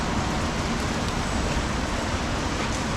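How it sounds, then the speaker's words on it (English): Rain falling steadily on a narrow market lane in Macau, a dense even hiss of drops on the street surface, close and unbroken throughout with no talk. "in the rain a little bit here"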